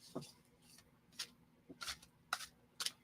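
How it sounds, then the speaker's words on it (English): Tarot cards are shuffled in quiet, brief papery riffles and taps, a handful of separate soft bursts spaced unevenly across a few seconds in a calm room. "we're gonna shuffle 10 times"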